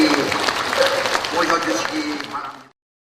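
Audience applause welcoming senior Buddhist monks at the opening of a world Buddhist supreme leaders' conference, a dense burst of many hands clapping that continues for under three seconds, then cuts off.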